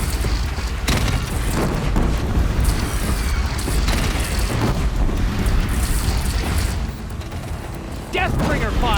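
Heavy mechanical gunfire and booming blasts from a Deathbringer machine in Horizon Zero Dawn pound loudly and continuously, with clanking metallic mechanisms and sharp bursts layered into a dense battle din.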